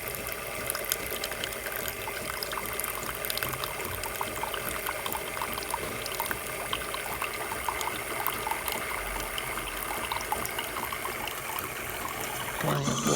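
Water flows steadily from a Delonghi Magnifica S coffee machine, a continuous close trickling and pouring sound with a faint pump hum throughout.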